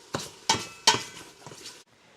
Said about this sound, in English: Let me stir the bacon.